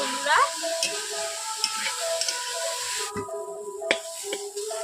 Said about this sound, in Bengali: ঢেকে রেখে এইভাবে আমি আলুগুলোকে ভেজে নেব